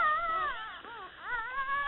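A mother dog with a new litter of puppies whimpers and whines in high, wavering, drawn-out tones, a close continuous plaintive cry with no talking.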